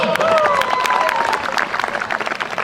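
A crowd applauds at a school sports day, the clapping broad and continuous with some cheering, a voice talking over it and the applause thinning toward the end.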